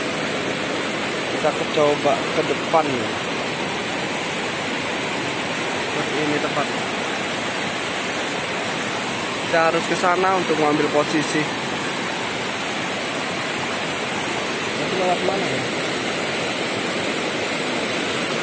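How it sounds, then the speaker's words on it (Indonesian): A jungle waterfall roars steadily in the background while a person speaks in short bursts over the constant rush of water. "Ada air terjun di depan."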